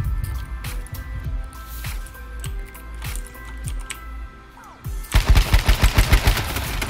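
Gunfire in the online survival shooter H1Z1, a run of sharp shots spaced through the first few seconds, then a rapid automatic burst near the end, loud and close over steady game ambience.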